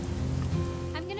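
Rain falls steadily in the video game What Remains of Edith Finch, a soft, continuous patter on surfaces, with a voice speaking briefly over it.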